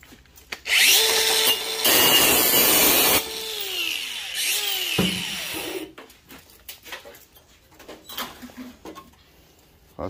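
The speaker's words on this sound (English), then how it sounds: "Pass me the grinder." A grinder cuts through bulky scrap metal in a scrap shop with loud whining bursts, then stops, leaving scattered clanks and scraping handling noises.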